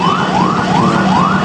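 An ambulance siren wails in a steady rising sweep, repeating about every third of a second, loud and close amid gridlocked traffic on flooded Quirino Avenue in Manila.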